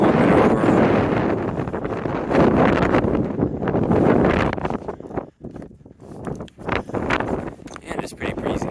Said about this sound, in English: And it's pretty breezy.